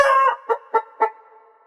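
A chicken clucks up close, one drawn-out squawking call followed by three short, evenly spaced clucks, with nothing else audible.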